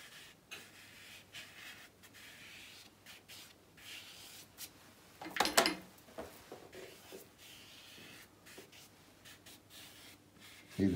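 A clean, damp brush carrying no paint is worked over watercolour paper for a snow scene, giving soft, quiet intermittent rubbing and scratching strokes. One louder scrape comes midway, with faint room noise between strokes.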